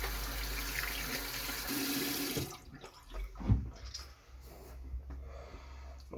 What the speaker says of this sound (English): You're just going to rinse it out in the sink.